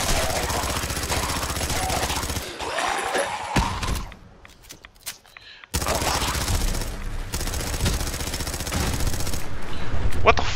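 Rapid automatic gunfire in Fallout 4, loud sustained bursts with a short pause in the middle before shooting resumes heavier, close and continuous.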